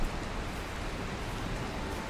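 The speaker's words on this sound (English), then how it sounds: "It's pouring rain." Pouring rain in the video game Valheim, heard as a steady, even hiss of rainfall that carries on without a break and with no voices over it.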